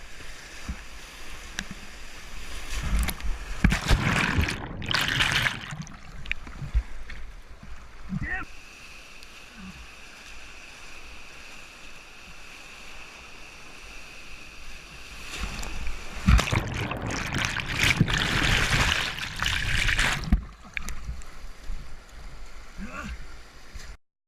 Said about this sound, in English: now I was entering the small stretch of Class 2 rapids that was on this river